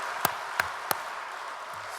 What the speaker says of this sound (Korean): 옆에 분들하고 박수 한번 치겠어요